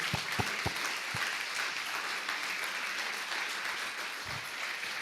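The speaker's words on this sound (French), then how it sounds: "Je pense qu'on peut quand même applaudir l'équipe technique, la régie." An audience at a history conference applauds the technical crew, opening with a few sharp distinct claps that quickly merge into a soft, even, fairly distant patter of clapping.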